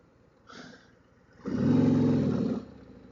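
A 2024 Harley-Davidson Street Glide 117 motorcycle riding through a double roundabout: a short engine rise, then a louder sustained drone lasting about a second before easing off.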